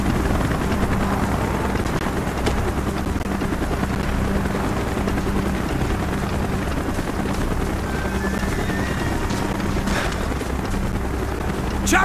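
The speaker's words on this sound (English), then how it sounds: "Chopper's inbound! Move it!" Helicopter arriving in the video game Call of Duty Black Ops, a loud steady rotor thump and engine roar filling the whole stretch, with faint bursts of gunfire or impacts mixed in.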